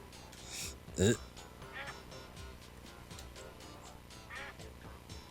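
Ducks quack in the video game Dreams, one loud nearby quack standing out among fainter scattered calls, under a busy game soundscape.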